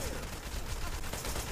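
Gunfire from the action video game Wanted: Dead, a dense burst of rapid shots over a brief stretch, heavy and continuous with no pauses.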